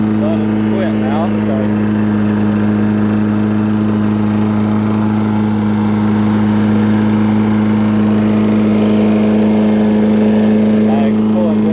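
A Murray/Toro push lawn mower engine, which smoked a little on startup, runs at a steady loud drone with a constant buzzing hum, and someone talks over it.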